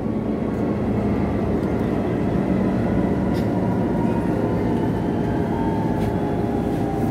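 A metro train rumbles at Ayala station platform with a loud, steady roar of wheels and motors, close by and continuous, with faint station sounds.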